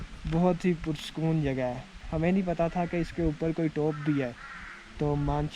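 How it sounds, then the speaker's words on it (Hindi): Harsh caws of a crow in Sharan Forest break through near and mid-distance while a person speaks almost continuously in the foreground. "कौवे की आवाज़ आ रही है।"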